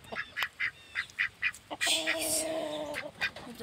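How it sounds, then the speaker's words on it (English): Ducks quack in a steady rhythm of short nasal calls, fairly close, followed by a longer, louder honking cry with harmonics and a few more quacks. "Are the ducks doing it?"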